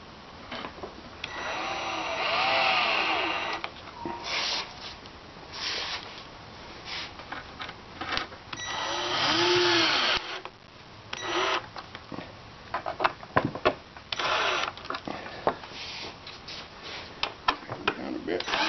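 A power drill repeatedly whirs in short bursts while driving 1-inch number 8 Phillips screws through a speaker into a board, close by with pauses and handling noises between runs.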